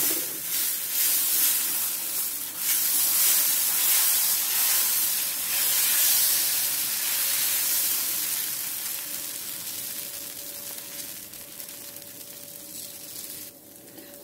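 Dosa batter for a crisp roast dosa sizzling on a hot pan, a loud continuous hiss that stays steady for several seconds and then slowly fades toward the end, with no talk.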